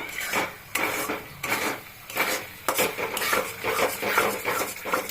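A spoon scrapes and stirs a thick dhoka lentil mixture in a pan over high heat, drying it out in repeated rough rasping strokes with metallic clatter and no talking.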